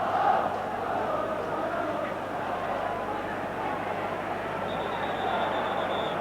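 Large, noisy football crowd at a 1991 Scottish Premier Division match between Rangers and Dundee United, a steady dense roar of voices filling the stadium throughout, with no single voice standing out.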